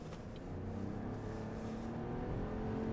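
The 1.3-litre three-cylinder engine of a 2024 Chevrolet Trailblazer RS accelerates, a fairly quiet, steady engine hum rising gradually under faint road and cabin noise.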